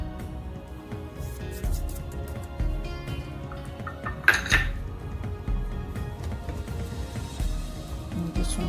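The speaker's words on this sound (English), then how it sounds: "just want to mix it in properly" Facial wash ingredients and salicylic acid are being mixed in a bowl, with a steady run of close clinks and scrapes of a utensil against the dish and one sharper knock midway. No one speaks.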